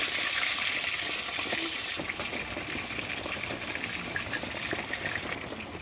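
Fish frying in mustard oil gives off a steady hissing, bubbling sizzle, brighter and louder at first, then settling into a softer, continuous crackle.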